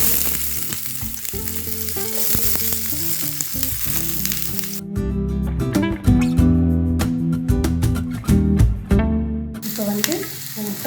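Steady crackling sizzle of chopped onions frying in hot oil, loud and close, with occasional stirring scrapes and no talking.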